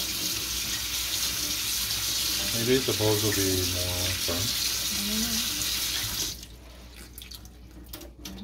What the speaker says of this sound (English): gonna dump the water out and rinse it with cold water